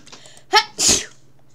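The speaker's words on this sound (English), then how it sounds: "And I'm gonna sneeze." A single loud sneeze up close: a sharp intake followed by a forceful burst, then quiet.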